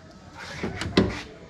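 Door of a Model T Ford car opening and shutting, a couple of close, brief metallic clunks heard alone.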